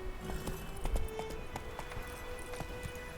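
Roach the horse galloping in The Witcher 3, a steady rhythmic clip-clop of hooves at moderate distance, fairly quiet over ambient game sound.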